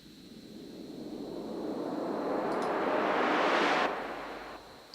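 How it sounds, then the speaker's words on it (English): A synthesized white-noise riser for an EDM track, a broadband hiss swelling steadily over about four seconds, brightening as it rises, then cutting off abruptly into a quieter tail. "this is like a white noise, what I'd call a kind of riser"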